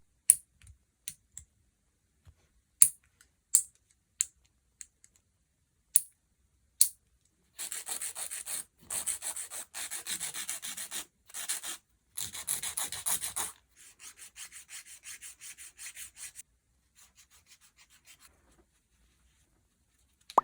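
Extended nail tips are filed to shape and length. After a few scattered taps, close, quiet rasping strokes come in quick repeated bursts.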